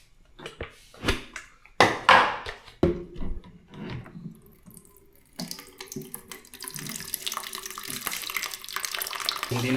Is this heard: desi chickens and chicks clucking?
no